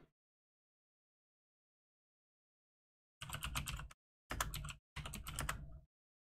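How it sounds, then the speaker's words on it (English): Mechanical keyboard typing arrives as three dense bursts of rapid key clicks after a few seconds of silence, close and fairly loud, with brief pauses between bursts and no talk. "Got that mechanical keyboard"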